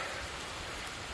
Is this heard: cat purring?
no